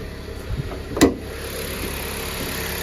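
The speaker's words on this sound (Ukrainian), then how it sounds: "Двигун тихесенько, гарнесенько працює." A 2017 Dodge Journey engine idles with a low, steady hum up close, broken by one brief sharp click near the start.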